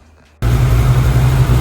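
Gen5 Whipple-supercharged Ford Cobra engine starts abruptly and settles into a loud, steady idle with a deep rumble and constant whine, close up and alone with no voices.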